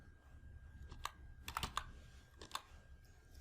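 Someone types on a computer keyboard to enter a value in an Excel spreadsheet: a few scattered keystrokes, then a quick cluster and a final tap, close and fairly quiet against a low background hum.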